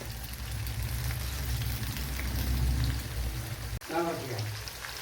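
Chicken pieces frying with curry leaves in hot oil, a steady close crackling sizzle with a low rumble, briefly interrupted by a sharp clatter near the end.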